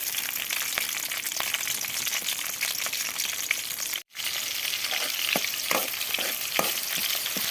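Onions and green chillies fry in hot oil for a Sunday fish pulusu, giving a steady broadband sizzle broken by a brief dropout midway and sharper stirring clicks afterward, close and alone.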